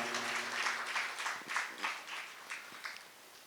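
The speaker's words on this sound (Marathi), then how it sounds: "खूप सुंदर, जोरान टाळ्या वाजवून यांचा आपण आभार मानूया." An audience at an ISKCON Gita Jayanti programme in Amravati breaks into applause, a moderately close burst of clapping that fades toward the end.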